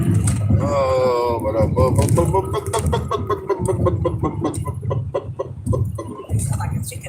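A person imitates a chicken with rising clucking and squawking calls that break into rapid choppy bursts, loud and close, amid other voices.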